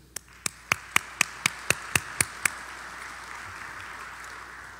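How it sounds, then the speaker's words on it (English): Clapping from the audience at an IEEE conference comes as about ten crisp, evenly spaced claps, then stops and leaves only a faint room hum. "Let's give a round of applause"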